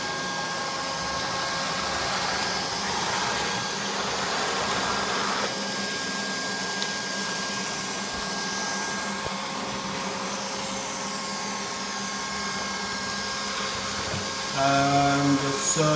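A Neato Botvac 85D robot vacuum cleaner runs steadily with a continuous motor whir and brush hiss, close and fairly loud, with a brief clatter near the end.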